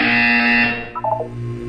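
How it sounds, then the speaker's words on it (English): A loud electronic buzzer in Portal 2 drones for under a second, then fades, followed by a short burst of quieter beeps over a low hum. "You will hear a buzzer."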